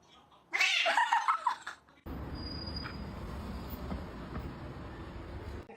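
A house cat meows and caterwauls loudly up close in a short burst, then the sound cuts to a steady low rumbling background.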